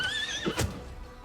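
A plague horse in Pathfinder: Wrath of the Righteous gives one short, loud, shrill whinny that breaks off abruptly, with a brief snort at its end.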